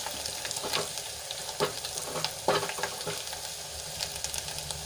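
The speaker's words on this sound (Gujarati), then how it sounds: "તો આદુ લસણ અને મરચાં આપણે થોડાક સંતળાઈ ગયા છે" Ginger, garlic and green chilies sauté in hot oil in a pan for Gujarati kadhi, giving a steady close sizzle with occasional stirring scrapes and no talk.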